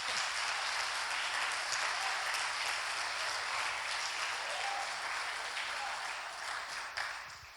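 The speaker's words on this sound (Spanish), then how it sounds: "Aplauda si quiere aplaudir." A church congregation breaks into steady, full applause that fills the space evenly and loudly, tapering slightly toward the end, with no speech over it.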